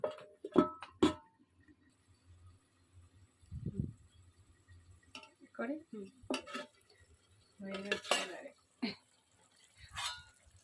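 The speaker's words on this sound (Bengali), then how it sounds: "ঢাকা দিয়ে দেব জলটা শুকানোর জন্য" A lid set over a pan of ridge gourd cooked with poppy seed paste, with several sharp metallic clinks and clatters of cookware spaced out among quiet gaps, close by.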